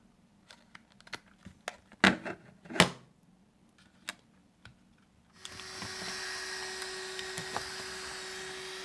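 Scattered clicks and taps give way to the electric motor of a Tamiya TT-02 Type-S RC car running forward on a Hobbywing ESC, a steady, even whine that holds to the end.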